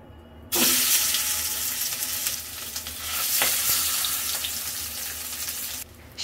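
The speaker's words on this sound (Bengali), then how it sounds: "সেদ্ধ ডিমটা ভেজে উঠাই নিছি" Boiled eggs fry in a pan of hot oil with a loud, dense sizzle that starts abruptly and holds steady, broken by a few sharp spatters and scrapes, then cuts off near the end.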